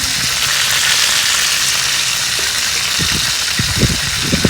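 Ingredients dropped into a hot pan for sweet rice set off a loud, steady sizzle that hisses without a break, joined near the end by a few thumps and scrapes, close up with no voices.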